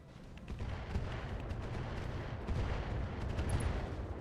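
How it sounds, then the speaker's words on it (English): Artillery strike slamming into a Stalker mech in the RogueTech battle game, a sustained rumbling barrage of low booms and crackle that swells slightly near the end, with no talking. "We obviously drop an artillery right into this Stalker."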